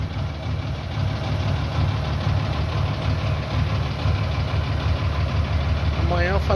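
A cold Mercedes-Benz 1621 truck diesel engine idles steadily and loudly up close, a continuous rough, knocking rumble throughout, with a brief voice near the end.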